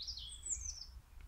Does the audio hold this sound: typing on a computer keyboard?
no